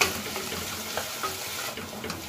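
Ginger-garlic paste and chopped green chilli sautéing in a pan, a steady soft sizzle with light scraping and stirring sounds throughout, close and continuous with no talking.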